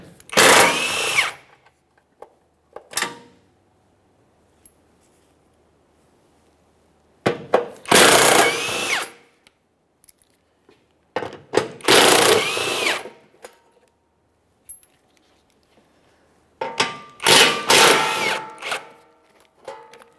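Power tool spinning an exhaust heat shield mounting bolt loose under a 2014-2018 Mazda 3, four loud whirring bursts of one to two seconds separated by quiet gaps and small clicks.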